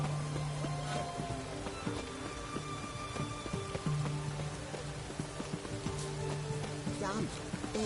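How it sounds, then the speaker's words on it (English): Rain falls steadily in The Witcher III: Wild Hunt, a soft continuous patter beneath game music tones and occasional talk. "It's raining."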